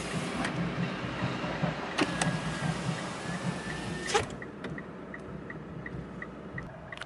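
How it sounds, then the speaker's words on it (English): The driver's side power window of a 2019 Mitsubishi Strada GLS hums steadily as it travels, with a few clicks and a thump as it stops, then faint soft ticking inside the cabin. "The driver's side window is automatic up and down."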